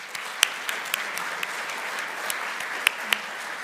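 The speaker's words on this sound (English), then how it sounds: "Round of applause for them." An audience at an economic forum applauds steadily for a few seconds, a dense patter of clapping with a few sharper claps standing out.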